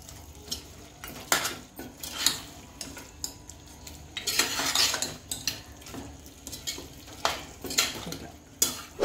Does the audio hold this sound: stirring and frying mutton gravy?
yes